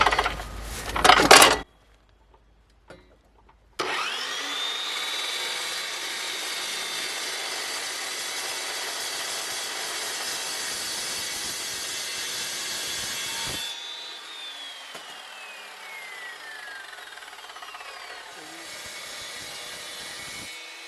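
A homemade mobile bandsaw mill cuts through steel plate, a loud steady sawing drone with a high ringing whine that runs for about ten seconds, then softens and fades as the cut finishes, after a few brief knocks at the start.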